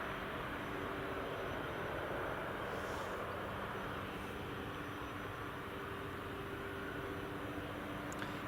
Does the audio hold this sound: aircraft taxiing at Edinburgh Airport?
yes